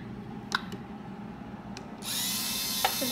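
A prony brake test rig's electric motor switches on about two seconds in and keeps running as a steady broadband whir, after a few faint clicks and knocks while it is still off.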